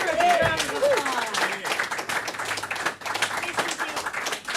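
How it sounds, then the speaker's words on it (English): Audience applause at a Friday night concert series after a singer's set: a crowd clapping in a small venue, with whoops and voices over it and a host speaking partway through. "Give her a big round of applause."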